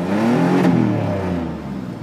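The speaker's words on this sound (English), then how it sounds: "I put it in neutral, I revved it up" A straight-piped truck engine revs hard in neutral, a loud, close, deep roar that swells and then slowly winds down.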